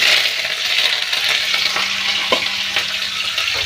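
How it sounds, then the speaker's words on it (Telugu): Curry leaves hitting hot oil with frying urad dal, a steady bright sizzle that continues throughout, with a few brief stirring clinks partway through. "కరివేపాకు వేస్తాను"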